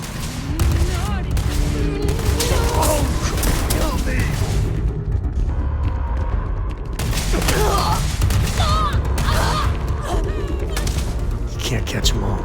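Energy weapons fire repeatedly during a Starfield space-combat battle, with dense overlapping shots and booms that stay loud throughout, while voices talk over the gunfire.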